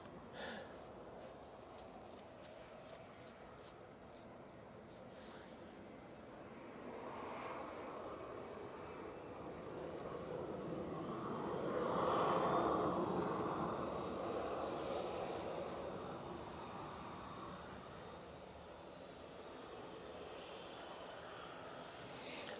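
KLM airliner at Manchester Airport, a distant jet roar that swells gradually to a peak midway as it passes, then slowly fades, heard alone.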